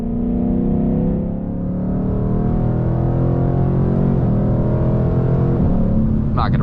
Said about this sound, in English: Let's do a long 4th gear pull, ease into it.